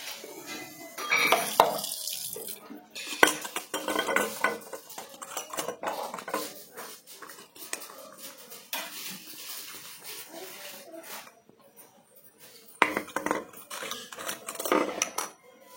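A steel baby feeding bottle is rinsed and scrubbed with water, giving intermittent metallic clinks, splashes and rattles up close, with quiet stretches between bursts.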